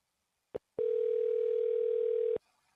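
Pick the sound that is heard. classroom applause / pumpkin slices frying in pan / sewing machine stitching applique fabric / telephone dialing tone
telephone dialing tone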